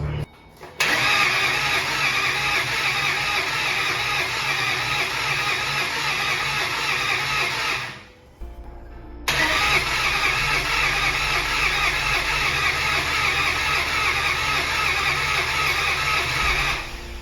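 A Mustang with a newly installed engine cranks over without firing because its fuel pump relay is removed: two long, loud, rhythmic cranking bursts separated by a brief pause.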